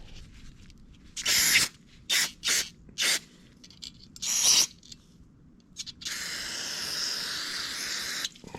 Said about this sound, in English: we're using the gum out carbon choke cleaner, and we're just gonna spray in here